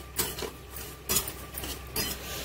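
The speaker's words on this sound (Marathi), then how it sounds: "दोन्ही मिक्स करूनच भाजून घेणार आहे" Poppy seeds and shahjeera dry-roasting together in a pan, with soft scrapes and light clinks of a spatula stirring at a slow, uneven rhythm, faint and close.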